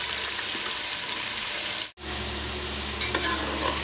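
Five medium onions sautéing for chicken biryani, a steady close sizzle broken by a brief cut partway through, then light stirring clinks with no talk.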